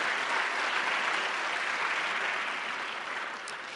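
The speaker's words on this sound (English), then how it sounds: "So a round of applause to Jen Rainieri," Loud, dense applause from a lecture series audience, a continuous roar of many hands clapping that fades slightly toward the close.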